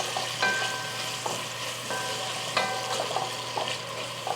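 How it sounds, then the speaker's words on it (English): Onions hit a hot pot of chicken adobo and fry, a steady close sizzle with a few brief stirring clatters scattered through it. "going to put our onions in, and this is going to help deglaze the bottom of the pot"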